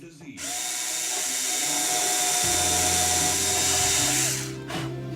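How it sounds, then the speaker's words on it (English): A power drill bores a hole into an aluminum base during a revolver AR build: the motor spins up quickly, whines steadily for about four seconds, its pitch dropping as it bites into the metal, then winds down. "Drill my other two holes."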